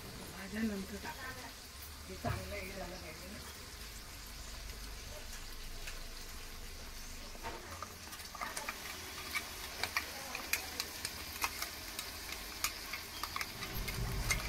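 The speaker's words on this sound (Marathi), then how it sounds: "यानंतर त्याच्यात टोमॅटो ॲड करून घ्यायचे आहेत आणि तेही चांगले परतून घ्यायचे आहेत" Tomatoes sauté and get stirred in a pan, giving a quiet, steady sizzle with scattered ticks and scrapes of stirring, while a voice talks faintly now and then.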